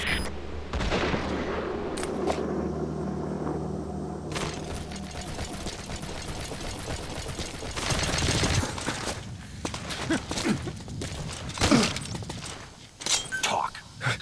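Gunfire in Metal Gear Solid 5: The Phantom Pain, bursts of rapid shots and sharp impacts amid mechanical clanks and explosions, loud and close, with brief voices mixed in.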